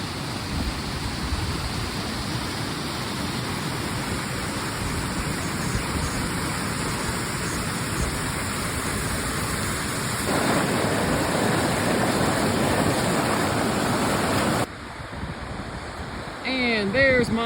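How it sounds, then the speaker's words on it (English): A tall waterfall in the Rocky Mountains pours with a loud, steady broadband roar that fills the whole scene, close by and constant, with a brief shift in intensity near the end. "And there's my parting shot of the waterfall."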